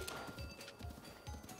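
Horse galloping in The Legend of Zelda: Breath of the Wild, a steady clip-clop of hooves in repeating beats over a constant game backdrop, loud and close.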